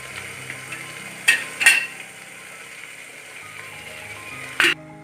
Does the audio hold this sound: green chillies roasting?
yes